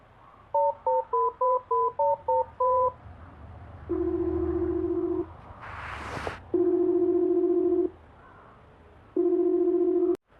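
A telephone call plays a quick series of short dialing tones, then three long repeated ringback tones separated by pauses, with a brief burst of noise between the first and second.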